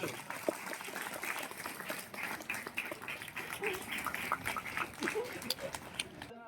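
A crowd at a village school program claps together, a faint, diffuse patter of applause sustained for several seconds with background chatter mixed in.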